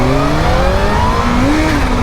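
A Kawasaki Z H2 supercharged motorcycle accelerates hard from a launch-control start, its engine note loud, close and steadily rising in pitch for about two seconds, with no talk.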